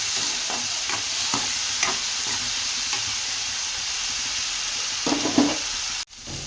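Ginger, garlic and cashews fry in a pan with a steady, loud sizzle and faint stirring scrapes throughout, until the sound cuts off abruptly near the end.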